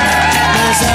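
Studio audience cheering and whooping for comedian Gui Santana on a live morning TV show, a dense, loud crowd roar filling the whole moment without a pause.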